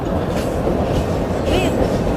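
A train runs along a Brazilian railway, heard from inside a carriage as a loud continuous rumble and rattle of wheels on track, with a brief metallic squeal partway through.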